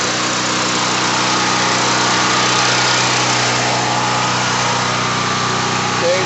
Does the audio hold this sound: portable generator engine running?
yes